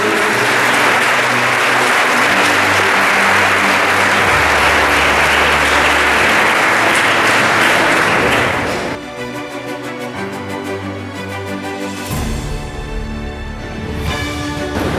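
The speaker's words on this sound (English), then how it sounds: "Yes, put your hands together" A felicitation ceremony audience gives a loud, sustained round of applause for student toppers, with music-like tones mixing in as the clapping thins and then picks up again.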